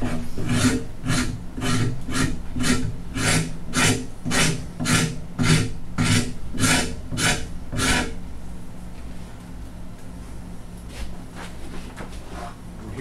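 A 200 mm number 11 rasp shaping a wooden guitar neck: about a dozen steady, evenly spaced rasping strokes up close, then quieter scattered scraping.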